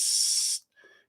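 A spray can gives one sharp, loud, hissing burst lasting about half a second and cutting off abruptly, followed by a faint, brief tonal trace.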